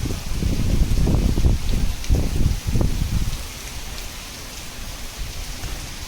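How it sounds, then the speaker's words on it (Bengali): Heavy rain pours down during Cyclone Remal in Kolkata, a dense, steady roar of water drumming on surfaces outdoors, loudest at the start and easing slightly toward the end, with no voices. "বাইরের অবস্থাটা দেখুন, বাপরে ভয়ঙ্কর বৃষ্টি।"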